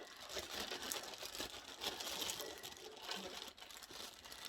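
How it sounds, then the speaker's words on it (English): Close, soft crinkling and rustling of a bag being opened by someone who is knitting, continuous papery crackle with small bursts, fairly quiet and without talk. "excuse the rustling"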